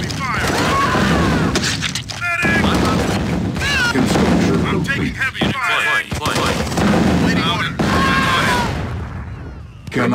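Heavy gunfire and booming artillery in a war video game, dense and continuous across the whole stretch, loud and close, with voices talking over the battle throughout.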